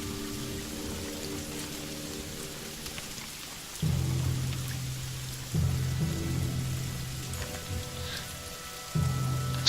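Rain in the video game The Banner Saga 2: a steady, soft hiss of falling rain runs throughout, with low droning music swelling beneath it in several surges.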